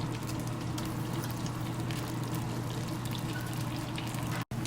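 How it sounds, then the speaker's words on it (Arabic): Cooking cream pours into melted butter and pesto sauce in a pan, a soft continuous liquid rush with faint sizzling that runs steadily and cuts off abruptly near the end. "وبعدين راح نضيف كريمة طبخ"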